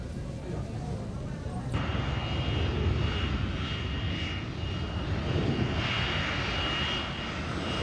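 Propeller airplane engine droning steadily and loudly from inside the cabin while flying into La Paz, a high plateau city, with muffled voices faintly underneath.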